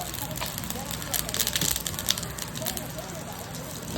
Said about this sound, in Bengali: আর একটু তেল দিয়ে দিলাম দিয়ে দিলাম তেজপাতা জিরা